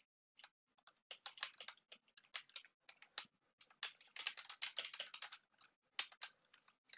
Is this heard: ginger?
no